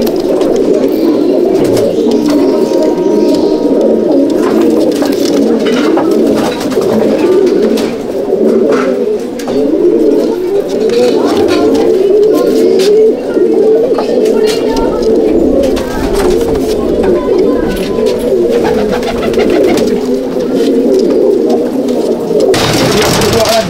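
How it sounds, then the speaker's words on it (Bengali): Old-generation Panjabi male pigeons coo steadily and loudly inside a pigeon loft, a dense overlapping chorus of low throaty calls that runs without pause, with someone talking over it. "এটা হচ্ছে একদম ওল্ড জেনারেশনের নর পায়রা পাঞ্জাবি"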